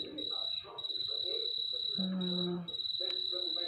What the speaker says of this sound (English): almost like crickets